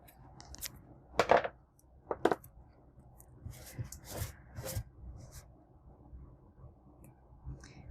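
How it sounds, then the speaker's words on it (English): Double-sided tape is measured, snipped with scissors and pressed onto a tumbler up close, giving quiet rustles, a few crisp scissor cuts and soft rubbing sounds. "I'm going to measure it, cut it, and apply it"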